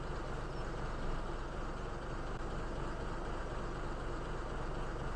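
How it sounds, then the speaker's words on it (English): A tractor engine from the Farming Simulator 17 game runs at a steady drone, loud and continuous, with no breaks or talk. "That does sound good, that tractor."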